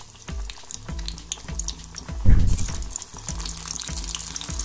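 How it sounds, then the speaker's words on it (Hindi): Spinach bonda balls deep fry in hot oil, a close steady bubbling sizzle with a louder burst of splattering midway as more batter drops in, then an even crackle continues. "सारे मिक्सचर का ऐसे बॉल बना लें। अब उसका डीप फ्राई करेंगे।"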